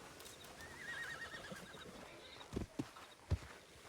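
Horse in the Red Dead Online video game gives a clear whinny, followed by a few distinct hoof thuds, fairly quiet overall with no talk.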